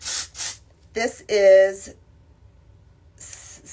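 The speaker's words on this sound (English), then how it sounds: "This is the Dry Spun Thickening Spray." Bumble and Bumble Dry Spun Thickening Spray hisses from an aerosol can onto hair in several short bursts, one longer and louder, close by, with a brief spoken remark at the start.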